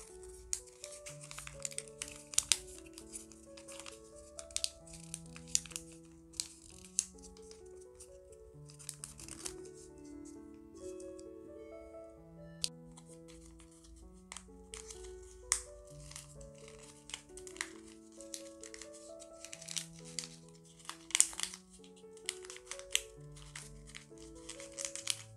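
Colored origami paper being folded into a Santa hat: soft crinkles and light paper rustles come and go throughout, under a gentle melodic music bed.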